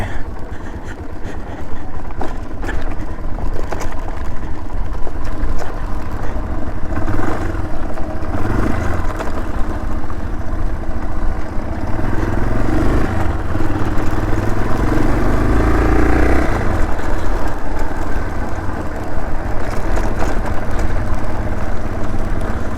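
A motorcycle riding off to fetch water at a campsite in Sooriyakanda, Sri Lanka, its engine a loud continuous rumble that swells and eases, no voices.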